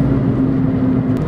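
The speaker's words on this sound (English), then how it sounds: "and that beautiful exhaust in the rear." Aftermarket exhaust on a 2005 R53 John Cooper Works Mini Cooper S gives a steady, close, loud rumble with a faint tonal hum riding on top, brief and without speech.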